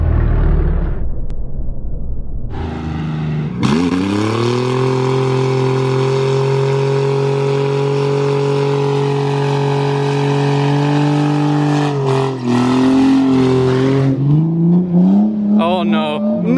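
A car engine, stuck in mud while drifting, revs hard and holds a high, steady whine for several seconds, then drops and surges again in uneven bursts close by.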